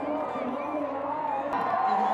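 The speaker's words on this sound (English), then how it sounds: "Cheering him on." Crowd at a Red Bull soapbox race cheering on a passing cart, a dense wash of voices and whoops at moderate distance with a commentator talking over it.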